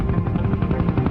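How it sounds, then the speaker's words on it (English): A helicopter flying along a chain of volcanic islands, its rotor thudding in a fast steady low-pitched rhythm, loud and continuous. "C hires a helicopter and flies north along these islands"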